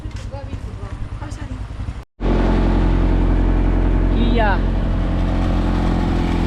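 Engine of a tramline vehicle used in the Kalinga mountains, starting as a loud, close, steady droning rumble after a brief gap, with people talking over it before it starts and across it.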